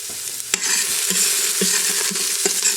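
Minced garlic hits hot oil in a pan and sizzles steadily, a close, bright frying hiss broken by a few clicks of stirring, with no talking.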